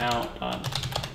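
Keys patter on a computer keyboard in a quick run of soft clicks, right after a voice that overlaps the start.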